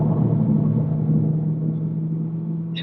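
A Nissan GT-R's engine rumbles low and steady under light throttle, a loud close-up drone inside the car with little change in pitch over a few seconds.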